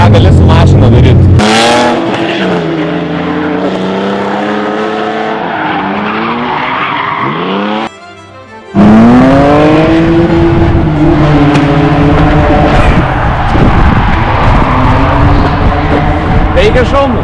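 A car in a driving video game revs and slides, with the engine pitch sweeping up and down through repeated skids and tyre squeal, loud and close, a brief cut near the middle, and people talking over it.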